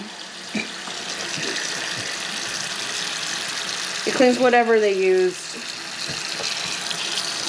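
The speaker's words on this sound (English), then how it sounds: "you stick it with cold water and you cover it in cold water" Cold water from a tap runs into a bowl of pork neck bones, a steady rushing pour heard close by while a person talks over it.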